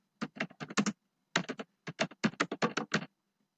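Keys tapped on a computer keyboard in three quick bursts of crisp, close clicks separated by short pauses, in a quiet room with no talk.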